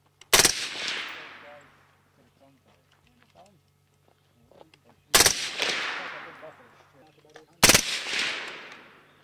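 Three loud gunshots ring out at an outdoor fun shoot, each a sharp crack followed by a long rolling echo, spaced several seconds apart, with people talking faintly between shots.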